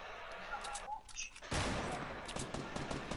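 Video game gunfire, a sudden loud burst of shooting that starts partway through and continues as a dense crackle to the end, with faint voices earlier.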